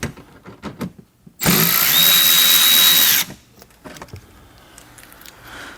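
A small 1/4 inch power tool, worked on during bumper repair for a BMW E92 M3, whirs loudly for just under two seconds as a steady high-pitched spin-up, framed by quiet shop sounds.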